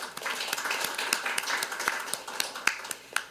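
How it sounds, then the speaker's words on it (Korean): Scattered applause from attendees at a policy pledge event in Korea where thirteen diabetes and chronic-disease organizations gather, a loose patter of individual claps with a few sharper snaps standing out, moderately near and fairly thin. "서로 격려의 박수 보내드리면 어떨까요?"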